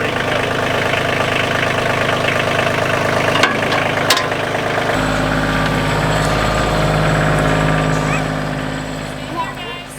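Tractor engine running while moving a large hay bale, a loud steady mid-pitched diesel drone with knocking rumble throughout, dropping to a deeper heavier tone partway, with a couple of sharp clanks.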